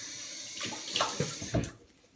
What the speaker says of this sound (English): Wash off cold water.